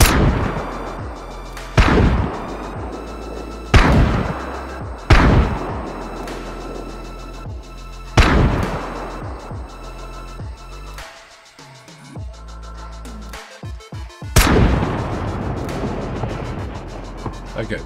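Vehicles exploding in a chain reaction in the game Scum: a series of loud, booming blasts a couple of seconds apart, each with a rumbling tail, then a brief lull and a final heavy explosion, with speech underneath.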